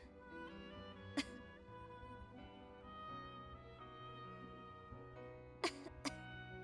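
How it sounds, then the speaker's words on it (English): A character in the video game Star Ocean Till The End Of Time gives a few short, sharp coughs, one early and a pair near the end, over soft sustained background music. "You've been coughing since you sat down."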